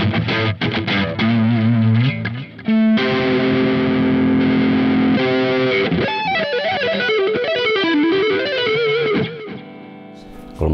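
An electric guitar driven through the amplifier's own distortion rather than a pedal, with thick, saturated, sustained chords and a wavering lead line filling the whole stretch, loud and close, with a brief gap near the start.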